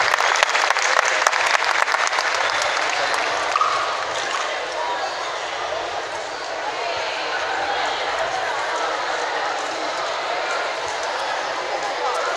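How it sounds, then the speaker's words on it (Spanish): Applause for a school marching band from Colegio Bachillerato Niño Jesús at an outdoor band festival in Sibaté, dense clapping from a large crowd that is loud at first and then eases into steady sustained applause. "Un aplauso por favor para ellos de nuevo"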